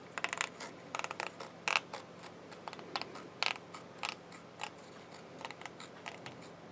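Scissors cut paper for a decorative pocket on a scrapbook album page: a close, irregular run of crisp snips and clicks with short gaps between them and no talking.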